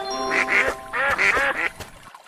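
A duck in a children's story quacks several times in quick succession, loud and close, with harsh nasal calls grouped in two bursts before falling silent.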